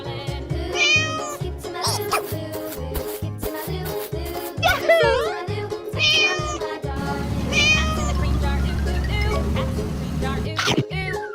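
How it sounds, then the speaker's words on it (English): Several cartoonish cat meows ring out over a steady, thumping music bed, each cry short and rising, spaced across the passage with a busier stretch near the end. "Cat."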